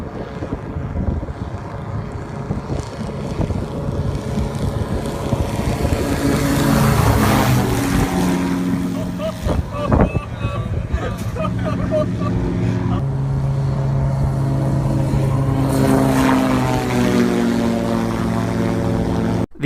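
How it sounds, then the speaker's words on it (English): An Airfish 8 wing-in-ground-effect craft skims just above the water, giving a loud, steady propeller-engine drone with shifting hum and spray wash across the whole stretch, alongside other background sounds. "This is the Airfish 8, and it's a plane that's designed to fly right above the water."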